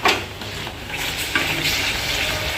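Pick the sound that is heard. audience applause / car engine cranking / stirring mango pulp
stirring mango pulp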